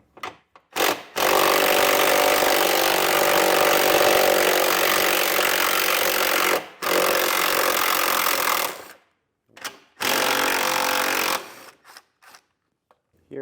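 A 12mm socket on a tool runs fasteners out of a 2024 Kia Niro PHEV during a trailer hitch install, giving a long, loud, steady whirring rattle followed by shorter bursts with pauses between them.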